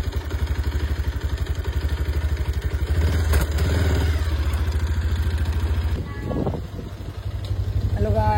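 A motorcycle engine runs steadily and close, its low rumble continuous throughout with a rise in effort midway, and voices talk over it.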